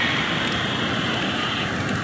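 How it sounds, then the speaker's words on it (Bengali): Heavy rain pouring down during a storm, a dense, steady hiss of drops with no talking. "জবরদস্ত বৃষ্টি হচ্ছে"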